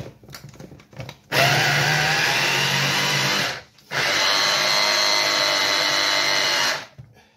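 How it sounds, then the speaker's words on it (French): A blender whirs through mushroom duxelles made with hygrophore de mars, butter and breadcrumbs. Two loud, sustained motor bursts of about two and three seconds are split by a brief pause, with no talking. "on va refaire tourner au mixeur"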